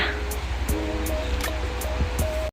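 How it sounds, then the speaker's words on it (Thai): A waterfall fed from Hallasan mountain gives a loud, continuous broadband roar of falling water heard up close, with faint repeated clicks and a thin tonal whine running underneath. "ที่นี่คือน้ำตกคังชองชอนนะคะ น้ำตกเนี้ย ไหลมาจากเทือกเขาฮันลาซานนะคะ"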